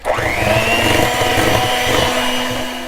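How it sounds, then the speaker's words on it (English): An electric mixer beats chocolate cupcake batter with vanilla extract, its motor spinning up with a rising whine and then holding a loud, close, steady whirring buzz with no talk. "I'm going to mix this until it's nice and combined"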